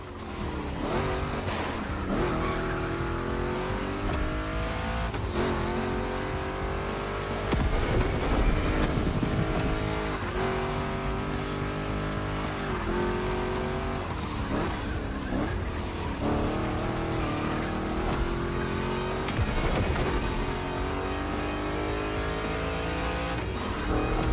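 Two Chevy big-block race cars roar through a race in The Crew Motorfest, engines revving up and down in repeated sweeps with tire squeal, loud and continuous with no talk.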